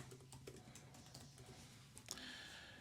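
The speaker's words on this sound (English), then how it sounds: "type in switch plate" Quiet keyboard typing as a name is entered in Fusion 360 on a computer, soft clustered keystrokes with a brief faster burst near the end, no talking.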